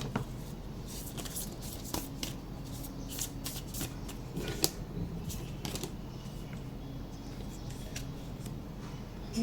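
Tarot cards being shuffled and drawn by hand, giving a steady run of crisp, papery flicks and riffles with sharp snaps, close and fairly quiet, with no talking.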